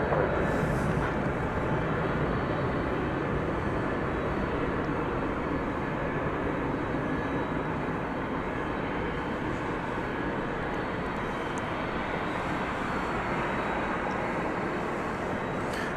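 A Qantas airliner passes at DFW Airport at night, heard as a steady, broad jet roar that holds at an even level for the whole stretch, moderately distant and with no voices over it.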